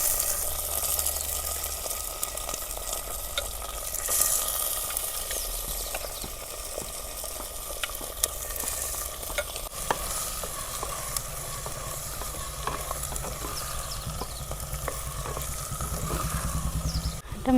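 Soaked green peas and potatoes sizzle in a hot pan with oil, a steady close hiss punctuated by occasional stirring scrapes and clicks, with no talking.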